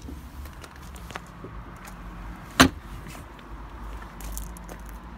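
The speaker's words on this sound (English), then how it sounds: "We just manually shut the doors." A Mini Clubman car door is shut by hand, a single solid thud in the middle of an otherwise quiet stretch with faint background noise.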